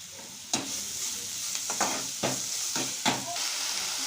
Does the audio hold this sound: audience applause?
no